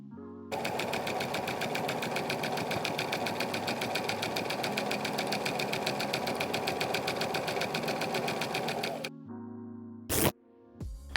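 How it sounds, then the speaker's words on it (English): A sewing machine runs steadily, stitching a tube seam of dress fabric, a fast, even mechanical whir up close for about eight seconds, then stopping with a few clicks and a short clunk. "While sewing, just keep pushing the fabric around as the needle moves"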